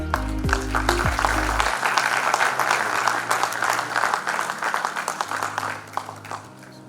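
Audience applause at an airline training college graduation ceremony in 2023, a dense sustained clapping that starts over a brief musical tone and then thins into scattered claps toward the end.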